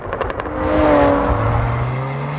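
A Jaguar F-TYPE prototype sports car engine revs hard and loud, rising to a sustained roar with a rumbling low tone, heard up close and alone.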